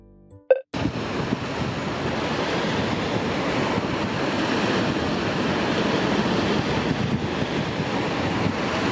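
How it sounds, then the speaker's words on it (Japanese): Ocean waves wash onto the seashore in Oita, Japan, a steady, loud roar of surf mixed with wind buffeting the microphone after a brief clatter at the start. "おー、海だね。 気持ちいいね。"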